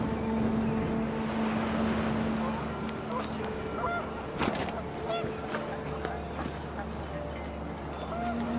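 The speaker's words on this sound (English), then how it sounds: "panicked geese appeared and quickly went" Panicked geese honk in a windy outdoor scene from the video game What Remains of Edith Finch, their calls rising briefly over a steady, noisy ambient bed with some background voices.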